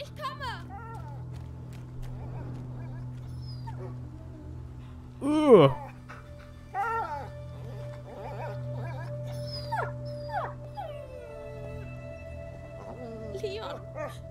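A dog in the video game A Plague Tale: Innocence whimpers and lets out rising howls and yelps over a steady low hum, with several distinct cries spread across the stretch and speech mixed in.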